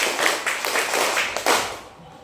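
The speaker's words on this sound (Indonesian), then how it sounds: "Tepuk 1, tepuk 2" A classroom group claps together, with a few separate bursts of hands that come roughly in rhythm, close and fairly loud, then fade out at the end.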